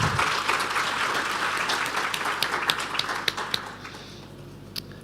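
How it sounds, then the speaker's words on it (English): An audience claps for the panelists after a discussion on digital tax administration, the applause full at first, then thinning into scattered individual claps that fade out near the end. "If everybody could give a round of applause."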